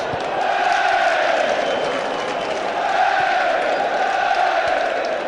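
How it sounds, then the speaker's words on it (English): Celtic fans applaud every pass at a football match between Aberdeen and Celtic, a steady wash of distant stadium clapping and crowd murmur that swells and eases without stopping. "Every pass applauded now by the Celtic fans."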